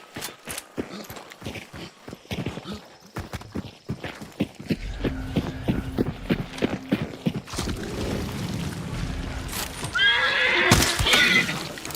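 A horse in the video game Hunt: Showdown whinnies loudly among hooves clip-clopping and footsteps, ending in a bright, shrill neigh close by.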